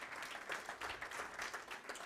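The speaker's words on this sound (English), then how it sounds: "Can we give Edward and team another bigger round of applause?" Audience applause at a formal report presentation comes as a faint, steady patter of many hands clapping in a hall. It continues evenly for about two seconds at a distance.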